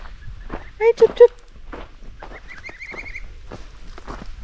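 Geese on a homestead honking a few short loud calls near the start, followed by softer cackles and footsteps while a person speaks.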